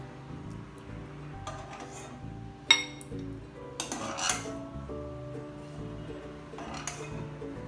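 Soft rasgulla are spooned into a bowl in a quiet kitchen, with a few sharp clinks of utensil against dish and light clattering between them.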